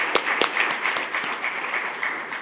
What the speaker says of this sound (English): if you would all join me in a round of applause for our board members